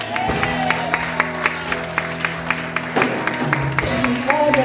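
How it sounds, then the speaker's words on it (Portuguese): A church congregation at an evening prophetic service applauds over sustained worship music, the claps steady and rhythmic throughout. "Você pode aplaudir o Senhor?"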